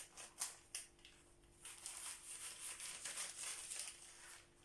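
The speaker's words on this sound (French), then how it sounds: "Je vais utiliser mes petits ciseaux." Small scissors snipping through a paper or fabric dress pattern at a sewing table, giving a few crisp close cuts followed by a steady run of soft crinkly snipping, fairly quiet.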